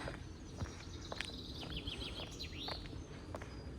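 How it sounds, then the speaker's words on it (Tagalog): Birds chirp and whistle in quick, sweeping notes at a moderate distance in the Netherlands, over a steady outdoor background hiss. "Tapos huni ng ibon."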